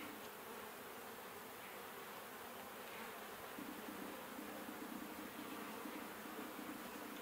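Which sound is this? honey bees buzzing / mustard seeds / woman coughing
honey bees buzzing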